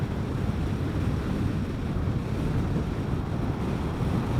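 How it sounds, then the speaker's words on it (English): Heavy wind roars into a rider's helmet on a Vespa GTS 300 Super Sport scooter on a country ride, a constant low buffeting rumble that stays loud and close throughout. "I don't know how that wind sounds, but man, it is loud in my helmet."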